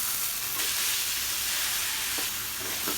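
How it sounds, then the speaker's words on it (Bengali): Stem amaranth greens frying in a pan while being stirred, giving a steady, dense sizzling hiss throughout with faint scraping touches near the end. "দিয়ে এবার নেড়ে চেড়ে নেব যতক্ষণ ভাজা না হয়"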